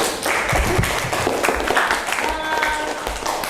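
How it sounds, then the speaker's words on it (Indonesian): A classroom of students claps together in a lively, uneven burst of applause, close and fairly loud, with some voices mixed in. "Tepuk tangan dulu."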